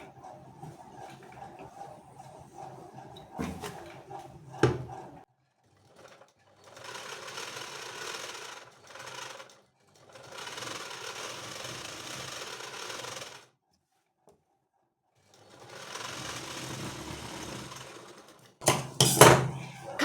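A sewing machine stitches a double hem on fabric in several bursts of steady rapid whirring, with short pauses between runs and a few clatters and clicks near the end.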